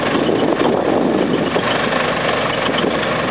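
A Perkins diesel engine in a 2000 Manitou M430CP four-wheel-drive forklift runs steadily while the mast is operated on a cool day. The rumble is loud and continuous, with no talking.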